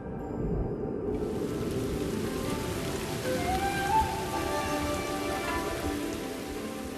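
A sudden desert rainstorm pours down in a steady, dense hiss of heavy rain that drums continuously on the ground, loud and enveloping throughout with no voices.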